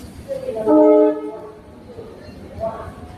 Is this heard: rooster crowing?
no